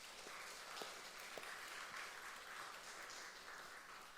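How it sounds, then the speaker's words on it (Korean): Faint, distant applause from a Sunday church congregation encouraging its youth, a soft continuous patter of many hands with a few louder claps poking through. "우리 청년들을 위해서 격려의 박수를 한번 보내도록 하겠습니다."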